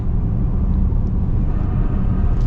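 A 2024 Chevy Blazer EV electric car accelerating, giving a steady, loud, broad low rumble and road roar that holds even from start to finish with no talking.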